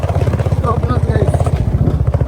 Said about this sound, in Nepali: हाम्रो केटाहरूको बाइक त होला त्यो।